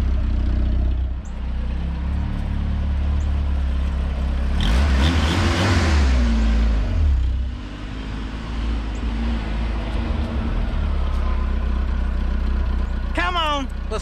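An old U-Haul mini box truck, long abandoned, drives around a small backfield with a steady low engine drone that rises in a revving surge midway, then settles back, with brief talk over it.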